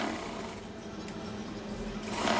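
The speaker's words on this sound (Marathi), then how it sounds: "या ठिकाणी मी आता कडेकडून शिलाई मारून घेते" A sewing machine runs steadily while stitching along the edges of fabric cut from an old gown, giving a continuous mechanical whir of close, moderate loudness with no pauses.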